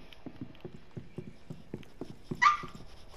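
Dog in a room giving a quick series of soft muffled barks and thumps, ending in a brief higher-pitched whimpering yelp near the end, fairly close and without talk.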